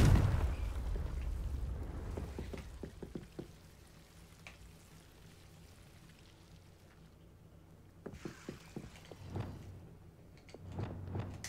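Confringo fire-blast spell detonating in Hogwarts Legacy, a loud booming burst at the start that fades into a low rumbling tail, followed later by a few sharp crackling pops and smaller bursts.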